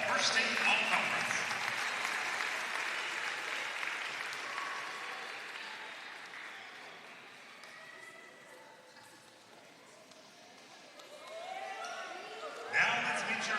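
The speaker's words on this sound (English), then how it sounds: "Fans, another round of applause for the Conference Carolinas Women's Volleyball First Team All-Conference." Fans clap for a volleyball tournament's all-conference honorees in a gym. Broad, sustained applause fades over several seconds, then a voice starts over the crowd near the end.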